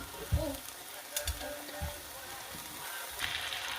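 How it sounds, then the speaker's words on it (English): Ground beef hits a pan of sautéed onion and tomato, giving a faint, steady sizzle with a few soft clanks and stirring knocks in a quiet kitchen. "I'm gonna go ahead and put my ground beef in now"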